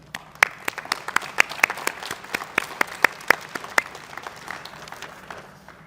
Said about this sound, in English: Let's give them a round of applause right now.